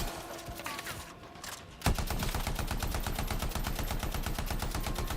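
Ultimate ability gunfire in the video game Anthem: after a quieter stretch, a sudden loud burst turns into a rapid, sustained stream of automatic shots that runs steadily to the end.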